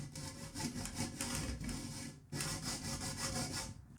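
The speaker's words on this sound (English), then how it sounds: "I'm just going to use an old hacksaw to cut it." Old hacksaw cutting a window screen frame piece, producing quick rhythmic back-and-forth rasping strokes, close and clear, with a brief pause midway before sawing continues.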